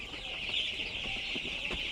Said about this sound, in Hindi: ये है भैया का देसी मुर्गा फार्म